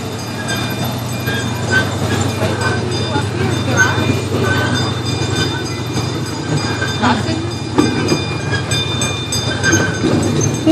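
A passenger train rolls along its rails with a steady low rumble throughout, while people talk over the constant noise of the ride.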